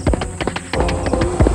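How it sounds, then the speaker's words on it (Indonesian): Horse hooves clip-clop at a gallop, loud and close, with a rapid, steady rhythm of overlapping hoofbeats and no voices. "Mereka bertiga naik ke kuda dan berlari ke arah teriakan itu."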